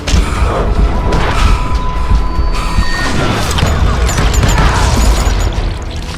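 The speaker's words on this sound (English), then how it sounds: "I was just glad I had Deputy Bob's mean-ass shotgun." Shotgun blasts in the western video game Call of Juarez: Gunslinger, loud booming shots amid a dense, continuous wash of game gunfire and crashes.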